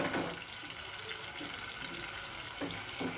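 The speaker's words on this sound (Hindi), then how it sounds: "हमें वही दाल का पानी डालना है इसमें" Lentil cooking water poured into a pan of frying spice masala for chana dal, a steady, fairly loud watery rush and sizzle that continues throughout with no voices.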